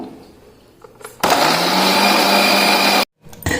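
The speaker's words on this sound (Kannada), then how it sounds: "ಇವಾಗ ಜಾರಿಗೆ ಹಾಕ್ಕೊಂಡು ರುಬ್ಬಬೇಕಾಗುತ್ತೆ ನೈಸಿಗೆ ರುಬ್ಬಬೇಕು" A mixer grinder blending chopped beetroot with a little water: a loud, close motor whir that starts suddenly, runs steadily for nearly two seconds, cuts out abruptly and briefly restarts.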